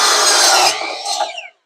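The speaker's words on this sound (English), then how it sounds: "I'm going to cut some 21-inch boards real quick" A wooden board for garage shelves being cut to 21 inches, with a close, loud rasping saw stroke running for about a second and a half before trailing off to silence.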